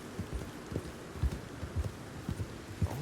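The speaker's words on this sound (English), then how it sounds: "The horse slows down." Horse hooves clip-clop at an easing pace in the Red Dead Redemption 2 video game, irregular thuds close and moderately loud over a low background.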